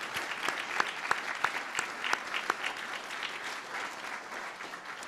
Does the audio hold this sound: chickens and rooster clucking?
no